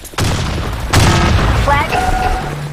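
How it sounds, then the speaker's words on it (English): A grenade blast in the Counter-Strike game, a loud boom that bursts in suddenly and rings out under game voice lines and other effects. "Fire in the hole! Fire in the hole! Grenade!"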